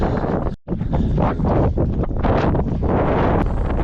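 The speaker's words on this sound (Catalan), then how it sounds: "I aquí dalt fa vent, encara no hem arribat a dalt i comença a fer bastant vent." Strong mountain wind during a trail ultramarathon in the Cerdanya, buffeting the microphone in loud, gusty roaring bursts that rise and fall, close and harsh, with a brief dropout near the start.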